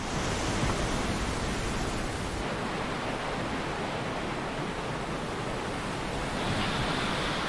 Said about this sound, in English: The sea waves are too strong.